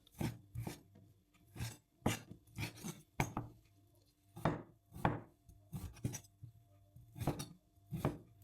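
A knife chops goat meat on a board in firm, fairly regular strokes, about fifteen distinct thuds over several seconds, close and clear, with no talking.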